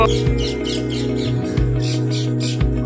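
A bird squawks repeatedly in a busy market street, its harsh calls rising over steady low crowd and traffic rumble with a few brief thumps.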